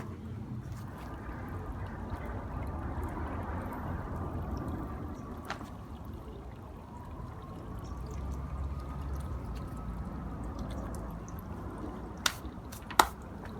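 A steady hiss of spraying water runs throughout at moderate level, with a couple of sharp drips or taps near the end.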